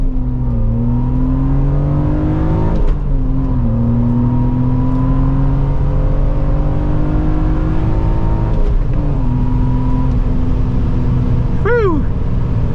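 A 1999 BMW M Coupe engine pulls through the gears while driving, its note rising steadily in several long climbs broken by quick shifts, heard loud from inside the car.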